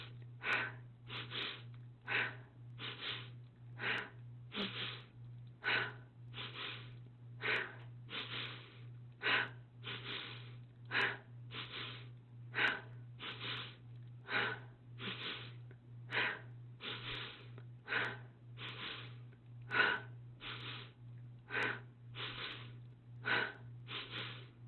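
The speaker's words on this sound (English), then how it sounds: "let's begin with the double inhale and the passive exhale through the mouth" Rhythmic breathwork, a quick double sniff in through the nose followed by a relaxed breath out through the mouth, repeated steadily about twenty times over a low constant hum, close and soft.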